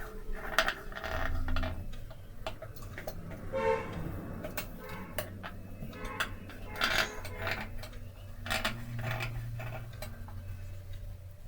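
Scissors snip through fabric for a churidar top with shirt collar, V-neck and box pleats: a run of sharp, close cuts at an uneven pace over a low background hum.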